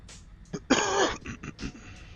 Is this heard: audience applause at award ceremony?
no